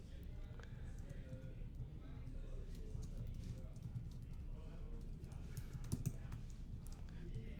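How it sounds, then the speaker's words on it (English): Password typed on a computer keyboard: soft, irregular key clicks over a steady low background hum, with faint talk underneath. "we'll go back and just type this back in"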